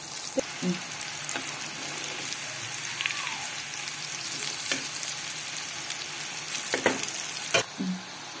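Yam pieces deep fry in a pot of oil, giving a steady, close bubbling sizzle with scattered pops and occasional utensil clicks, with no one speaking.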